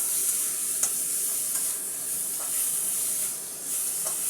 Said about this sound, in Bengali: তাহলে এটা একটু ভালোভাবে নাড়াচাড়া করে দিতে হবে